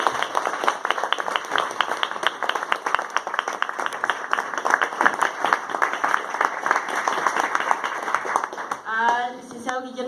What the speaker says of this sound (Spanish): a quien pido un aplauso